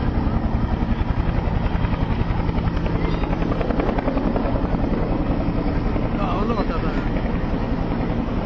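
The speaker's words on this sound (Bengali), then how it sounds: "হেলিকপ্টারটি" A Bangladesh Air Force training helicopter holds position at an airport emergency drill, its rotor throbbing loudly and continuously with rapid, even beats, mixed with wind rumble.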